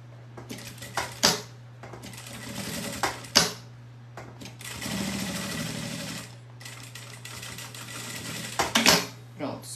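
Sewing machine stitching a seam on a fabric pouch in a box-style toiletry bag, running in several short bursts with a steady motor hum beneath the stitching and brief pauses between runs.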